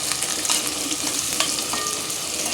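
Chopped onions sizzle steadily in a hot pan while a utensil stirs and scrapes through them, producing a continuous dense hiss with occasional soft clinks; no voices.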